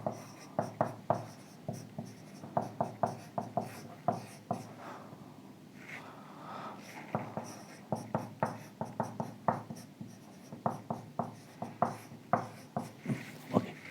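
Chalk or pen writing during a lecture, with quick rhythmic tapping strokes in bursts and a short pause midway, close and moderately faint.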